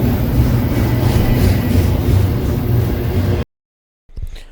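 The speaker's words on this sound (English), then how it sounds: "I didn't record this entire train, but it was still nice to see." A train rumbling past on the railroad near Galesburg, loud and close with a dense steady roar that cuts off abruptly, followed by brief silence and faint noise.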